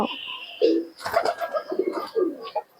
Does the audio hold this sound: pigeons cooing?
yes